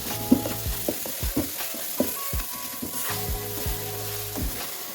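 Semolina and khoya are mixed in a pan for semolina barfi, with repeated close scraping and thudding strokes of a spoon over a soft steady sizzle.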